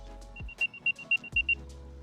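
An Apple AirTag on a keychain plays its locating sound from its small built-in speaker, a run of five or six short, high, chirping beeps that ring clear and close in a quiet room.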